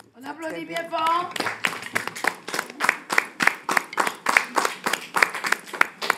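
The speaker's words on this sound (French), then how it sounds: "On applaudit bien fort." Rhythmic, steady clapping from an audience at a Kreole dance and culture performance, taking over after a brief sung or spoken phrase and continuing in even beats to the end.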